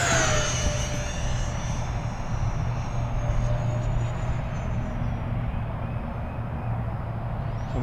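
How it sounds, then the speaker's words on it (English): An E-flite A-10 Thunderbolt RC jet with twin 64mm electric ducted fans flies past with a loud steady whine and whoosh that slowly drops in pitch, constant throughout, with no talk. "I tell you, this is an aggressive flying airplane."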